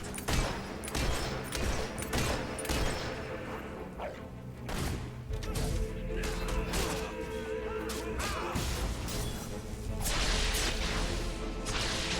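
Battle gunfire in the Fable 3 video game, dense volleys and cracking shots layered with crashes and whooshes, loud and continuous over a busy game score, with a few shouted voices.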